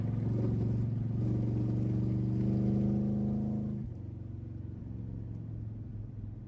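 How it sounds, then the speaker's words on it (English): A 1971 Chevrolet Corvette Stingray engine hums steadily while driving at around 60 to 65 mph, its tone rising slightly before easing back to a lower, smoother drone; no speech. "Car drives really nice too."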